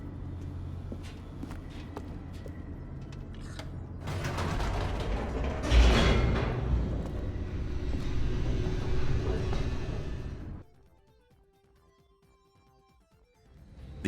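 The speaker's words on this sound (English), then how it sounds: "The elevator raced downward" Mechanical rumbling and creaking of a descending elevator in The Stanley Parable, swelling into a loud grinding, ratcheting rush midway, then cutting off abruptly to near silence before a final clunk.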